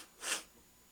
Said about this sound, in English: Apologies for sniffling into the microphone.